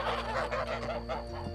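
Domestic geese honking on a traditional pasture farm, a run of nasal calls overlapping in quick succession, close and fairly loud.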